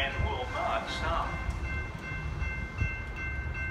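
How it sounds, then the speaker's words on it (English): A Metra express commuter train rushes through a suburban Illinois station without stopping, a loud, steady rumble with rail noise and a faint horn tone, under a public-address announcement. "The next Metro train approaching your station will be a Metro Express train and will not stop."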